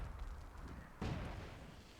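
A mortar shell explodes in the Myth II: Soulblighter strategy game, a sudden deep boom at mid-clip that rises out of a low, rumbling battle bed and fades slowly.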